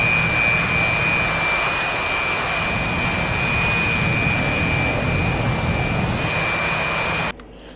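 A steady, loud jet engine roars in the DCS flight simulator, a constant whine over a broad rushing drone that stops abruptly near the end.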